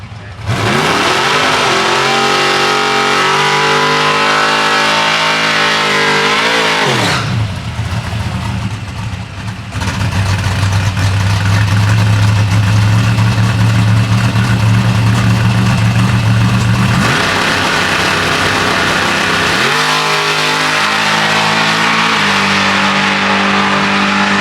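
At a drag racing meet, a Chevy truck's engine idles, then revs hard and accelerates loudly down the strip, with sustained roaring passes and rising pitch, close and powerful throughout.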